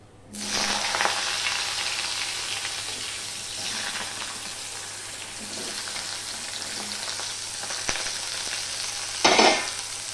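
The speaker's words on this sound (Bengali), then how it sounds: "এবার আমি দিয়ে দিচ্ছি আলুগুলো।" Potatoes tipped into hot oil with a spice tempering for an onion- and garlic-free banana stem dish, giving a steady close sizzle with soft stirring scrapes and a louder burst of frying near the end.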